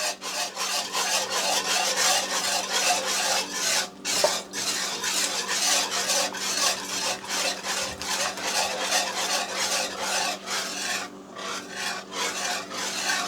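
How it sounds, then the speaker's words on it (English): Cheese being whisked into a Cajun chicken Alfredo sauce in a serving dish, a loud, steady rasping scrape of the whisk repeating continuously throughout, close and without talk. "Now we're going to begin to slowly add in that cheese. And I'm going to use a whisk the entire way."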